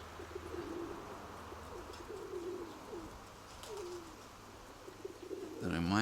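Pigeons in a loft coo softly in repeated low, rolling calls spaced across the stretch, with a sudden rustle or flutter close by at the end.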